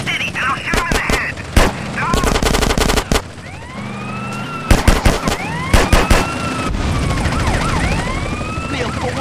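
Gunfire from a drive-by in GTA San Andreas comes in bursts of rapid shots and single cracks, mixed with sirens and game sound effects; a voice speaks briefly.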